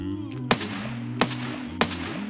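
Three sharp gunshots from Escape from Tarkov crack out about 0.6 seconds apart, each a hard, close report with a short tail, over a steady low droning hum.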